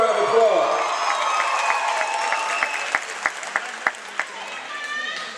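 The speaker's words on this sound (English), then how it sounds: "Class of 2010. Give yourselves a round of applause." A graduating high school class applauding and cheering at a commencement ceremony, a loud crowd of clapping mixed with shouts and whistles, with a few distinct claps standing out near the end.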